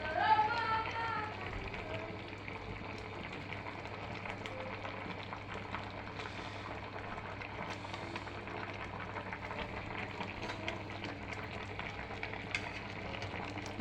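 Bata fish curry with eggplant, potato and tomato simmers steadily in a pan, a continuous low bubbling and frying hiss with a few stirring scrapes, no speech over it.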